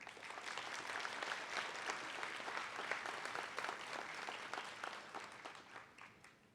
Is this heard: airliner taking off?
no